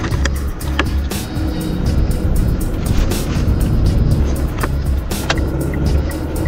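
A rental car rolls along an open road in Perth, Australia, with steady tyre and engine rumble heard from inside and occasional sharp ticks and bumps over the road surface, close and constant, without talking.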